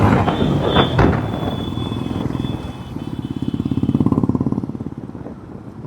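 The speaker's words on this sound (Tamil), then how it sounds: "பட் ஸ்டில் எக்ஸாஸ்ட் நோட் நல்லா லவுடாக தான் இருக்குது." A 350cc long-stroke motorcycle idles and revs with a loud, thumping exhaust note, the rapid pulses steady and close, rising in a short burst of throttle near the end.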